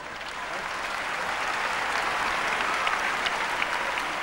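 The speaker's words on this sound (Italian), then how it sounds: "fare l'applauso più grande a coloro che sono state eliminate." Studio audience at a Miss Italia 2005 selection event applauding eliminated contestants, a continuous wash of clapping that swells slightly and holds steady to the end.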